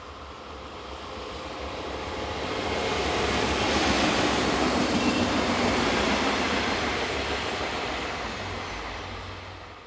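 A train passes on a European railway line beside the Bruder toy factory. Its broad rushing rumble swells to a loud peak mid-pass and slowly fades, with no voices.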